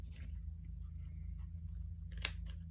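Quiet snips of old Stampin' Up! scissors cutting paper, a few soft clicks and one crisp cut near the end over a low background hum.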